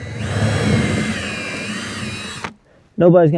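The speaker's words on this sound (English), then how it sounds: "So I'm using an 1/8 inch drill bit." A power drill with a 1/8 inch bit whines steadily for a couple of seconds, then stops; a voice starts speaking right after.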